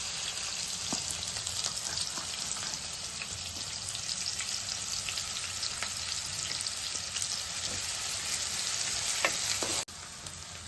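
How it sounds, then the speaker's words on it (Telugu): Chopped garlic and green chillies fry in hot oil, giving a loud, continuous crackling sizzle with scattered pops, heard up close for about ten seconds before easing slightly, with no speech. "ఆయిల్ వేడైంది. ముందుగా మనం కట్ చేసుకున్న వెల్లుల్లిపాయలు వేసుకుందాం."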